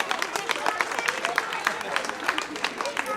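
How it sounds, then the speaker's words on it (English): A theater crowd at a magic show applauds a married couple called up on stage, dense steady clapping throughout with a host's voice faintly over it. "Big round of applause."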